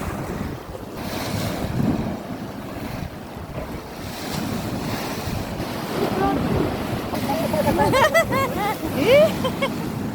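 Strong ocean waves crash and churn against rocks in steady, loud surges, with gusting wind buffeting the microphone and a few faint voices near the end.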